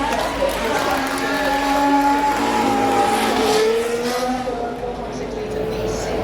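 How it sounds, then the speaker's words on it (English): A 2024 Haas Ferrari BF24 Formula 1 car with turbocharged hybrid engine driving past at a festival of speed, high engine tones rising and falling across the pass, loud under steady commentary. "this is the 2024 Haas Ferrari BF24"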